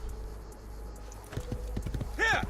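Several horse hoofbeats clop in quick succession in the video game Assassin's Creed II, then the horse snorts or whinnies briefly, set against a low steady ambient hum.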